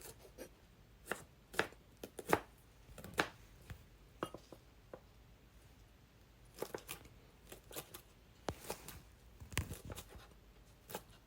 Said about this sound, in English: Now let's cut the leeks.